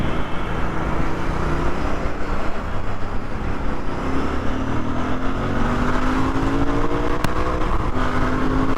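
A Royal Enfield Bear 650 motorcycle accelerating on a wet road: a loud, steady engine drone from the rider's position, its pitch rising through the gears over rushing wind and road noise, with no talk.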